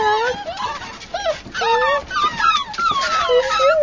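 A long-haired sable dog, an AKC champion, whimpers and yips in a close, rapid string of high, wavering cries.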